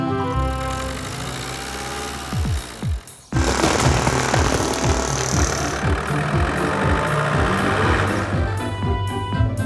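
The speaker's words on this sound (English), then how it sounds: "The excavator has broken through the hardened cement with its jackhammer." A cartoon excavator's jackhammer pounds steadily in rapid bursts through hardened cement over a droning engine, loud and close, with a brief pause before hammering resumes.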